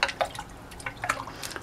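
Water from a tap splashes and drips in faint, irregular bursts while Roma tomatoes are washed, with soft patters of liquid close by.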